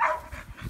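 A dog gives a short, quiet bark with a few soft follow-up yips, heard briefly at moderate distance.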